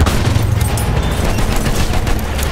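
Sustained enemy machine gun fire in Battlefield 1 multiplayer rattles on without pause, a dense, loud fusillade layered with battlefield noise.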